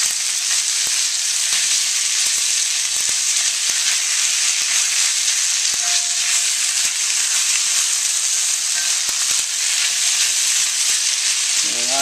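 Instant ramen with pork, shrimp and vegetables fries in a wok, a loud, steady, close sizzle that hardly varies, with a few faint scrapes and clicks underneath.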